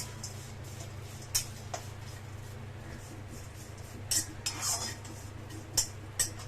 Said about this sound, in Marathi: जावित्री भाजून घेऊया.